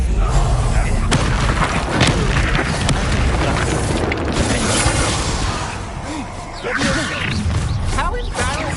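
Incendio fire spell cast during battle in the Hogwarts Legacy video game, a dense roar of booming bursts and crackling blasts layered with game music and effects, loud and continuous, with a voice speaking over it.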